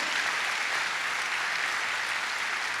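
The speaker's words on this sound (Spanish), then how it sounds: "Dale fuerte aplauso a ese Dios maravilloso." A church congregation claps loudly and steadily, a dense, sustained wash of applause from many hands filling the room with no break.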